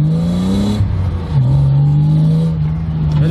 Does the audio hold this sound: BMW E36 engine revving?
yes